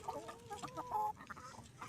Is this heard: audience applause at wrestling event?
no